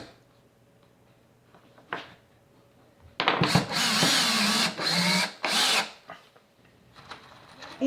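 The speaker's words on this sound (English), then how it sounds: "we are going to take some 1¼ and drill these into place." A power drill drives 1¼-inch Phillips screws into a wooden soap loaf mold, two long loud whirring bursts after a couple of faint taps, close and alone.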